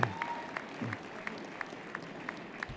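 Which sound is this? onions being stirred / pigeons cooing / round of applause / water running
round of applause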